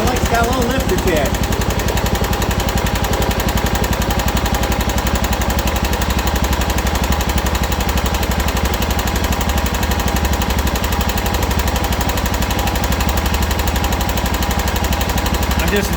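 A John Deere 240 lawn tractor engine runs after a carburetor cleaning, a loud, close, rapid steady chugging idle that holds an even rhythm throughout.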